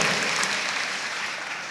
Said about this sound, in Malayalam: നിങ്ങൾ സ്വയം നിങ്ങൾക്കൊരു കയ്യടി കൊടുക്ക്